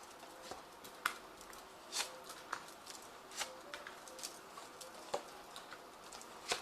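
A Zombie Tarot card deck is shuffled and handled in light, irregular patters and soft snaps, faint and close, with no talking.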